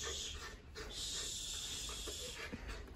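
Dogs pant in quick, breathy bursts close by at a house, with a few soft snorts mixed in. The panting runs steadily through the clip with no talking over it.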